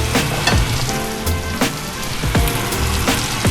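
Crispy skin salmon fries in a pan with a loud, close sizzle and scattered sharp crackles and pops of spitting fat, continuous and dense with no voices.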